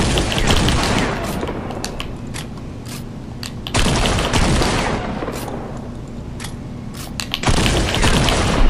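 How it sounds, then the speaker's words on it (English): Three loud, booming blasts from a double barrel shotgun in the video game Fortnite, each followed by a lingering tail and mechanical reload clicks, spaced a few seconds apart. "The double barrel shotgun does 228 damage per second."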